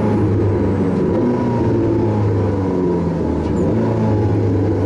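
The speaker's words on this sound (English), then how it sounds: "V8 you can hear there" Porsche 918 Spyder hybrid supercar with a V8 engine, driven in traffic; a steady low engine drone with a constant rumble throughout, close and fairly loud, no talking.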